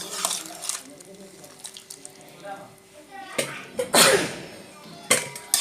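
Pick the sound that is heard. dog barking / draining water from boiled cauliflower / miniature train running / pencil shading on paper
draining water from boiled cauliflower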